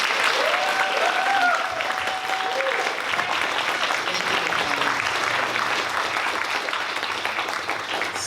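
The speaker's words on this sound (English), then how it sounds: "can you all please just give them a round of applause?" A crowd claps steadily and warmly, sustained applause filling the room at moderate volume, with a brief voice near the start.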